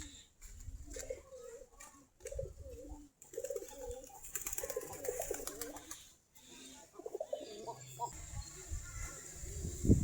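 Domestic Giribaj pigeons feeding in a loft coo repeatedly in soft, throaty bursts close by, while people talk intermittently and brief gaps of quiet fall between calls.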